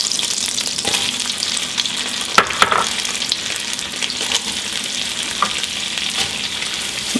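Red cabbage braising on a stovetop with apples and red wine gives a steady, close sizzle with occasional scrape-and-stir sounds from a utensil, continuous and fairly loud, with no talking.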